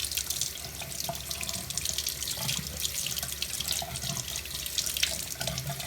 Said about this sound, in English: And then I rinse it off.